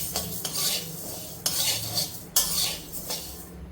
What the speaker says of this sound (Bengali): আর এই কড়াইটাতে আমি মুগ ডালটা শুকনো কড়াইয়ে, শুকনো কাঠখোলা যেটাকে বলে,